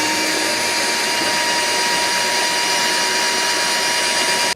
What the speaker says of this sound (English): But let's just drill through this.